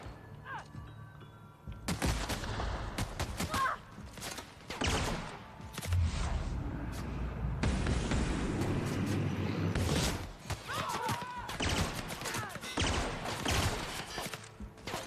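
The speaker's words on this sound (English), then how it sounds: "Oh god, who is shooting me? Like from where?" Gunfire in the video game The Outer Worlds, a run of sharp shots and thuds crowding together over about thirteen seconds, loud and close. Brief talk is heard among them.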